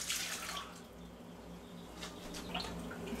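Half a cup of warm milk, heated in a double boiler, poured into a bowl as a continuous soft liquid splash for a few seconds, close and steady with no voices.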